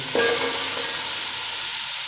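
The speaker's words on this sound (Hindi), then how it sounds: "ये मैंने आलू मटर काट के रखे हुए हैं, इनको मिक्सी डालना है इकट्ठे, आलू भी मटर भी।" Potatoes and peas sizzle with spices in a hot pan, a loud steady frying hiss right up close, with a brief stir or clatter near the start.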